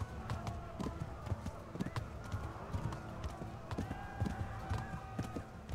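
A horse gallops in the medieval video game Kingdom Come: Deliverance, with steady rhythmic hoofbeats running through the whole stretch under a busy game soundscape, plus a brief whinny.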